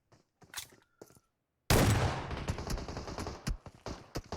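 Sudden burst of loud automatic gunfire in PUBG Mobile, rapid dense shots ringing on in a sustained roll with trailing echo, preceded by faint scattered game sounds and a brief quiet gap.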